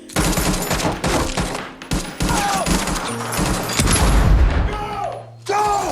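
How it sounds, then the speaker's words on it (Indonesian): Film gunfight between presidential guards and attackers: loud, dense bursts of rapid automatic gunfire and booming shots fill the scene almost continuously, with brief gaps, whooshing effects and background voices mixed in. "lalu lanjut dengan adu tembak dengan para pengawal presiden"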